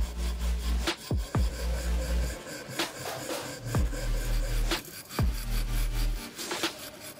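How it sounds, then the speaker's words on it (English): Wire metal brush scrubbing rust off a bayonet knife clamped in a vise, a close, steady rasping scrape in rhythmic back-and-forth strokes with a low hum underneath. "Now I take a bayonet knife, fix it in a vise and take such a brush for metal."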